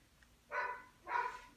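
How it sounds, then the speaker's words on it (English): Two barks from a dog, spaced about half a second apart, moderately distant and fairly quiet over a low background hum. "Sorry, I apologize for my dogs barking."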